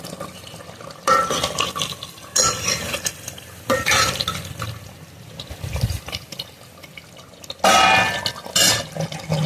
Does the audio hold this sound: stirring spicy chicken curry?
yes